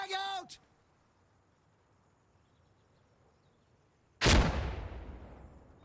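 A frag grenade in a video game bursts with one sudden loud blast whose rumble slowly fades, after a short burst of voice and a long near-silent pause.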